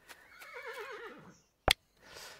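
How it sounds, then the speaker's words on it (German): A horse in the farming video game Harvest Days lets out a clear, wavering whinny, followed by a sharp click and a soft rustle. "Ne, hier haben wir Pferde."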